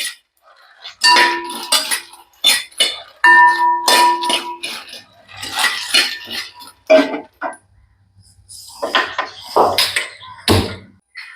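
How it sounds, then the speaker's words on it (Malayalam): Makhana (lotus seeds) tossed and roasted in a pan with spice powder and salt, giving irregular bursts of rattling, scraping and clinking stirring noises, separated by quiet pauses. "പെട്ടെന്ന് തന്നെ മിക്സ് ചെയ്യുക മക്കാനെ ഇട്ട് കൊടുക്കുക"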